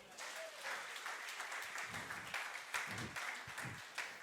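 A church congregation applauding and cheering at a Sunday service, sustained clapping with crowd voices, faint and distant in a large room.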